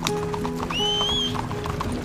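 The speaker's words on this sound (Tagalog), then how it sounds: "Yung kanino kabayo ito?" Horse hooves clip-clop steadily and close by in a rhythmic patter, with a brief whinny-like tone rising above them partway through and a low hum underneath.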